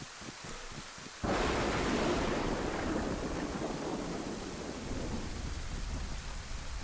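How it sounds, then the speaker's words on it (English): Rain falls in the survival video game DayZ, then a loud thunderclap breaks in and rumbles on under a steady heavy downpour. "And why am I running in the rain with a thunderstorm?"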